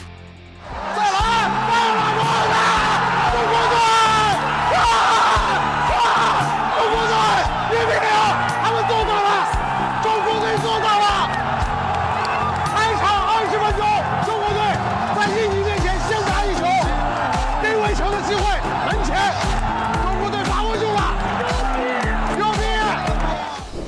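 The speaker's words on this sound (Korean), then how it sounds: "경기장 안은 기쁨의 환호성으로 넘쳐났고" A packed football stadium crowd roars and cheers continuously after China scores against Indonesia in a World Cup qualifier, a dense sustained wall of voices with whoops and yells, with speech mixed in.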